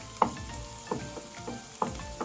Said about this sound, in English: Add in the garlic. The onions and saute for at least 5 minutes.